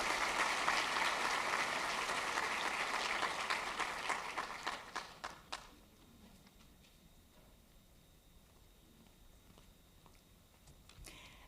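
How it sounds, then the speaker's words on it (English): Applause from a white coat ceremony audience at a medical school, a dense burst of clapping that thins into scattered claps and fades out after about six seconds, leaving quiet room tone. "Please welcome Dr. Lingins with a big round of applause."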